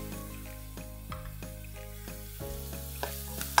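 Fresh thyme and rosemary sizzle in hot oil in a pan for pasta. A steady frying hiss runs throughout, with a few soft stirring knocks and a sharper clatter near the end. No one speaks.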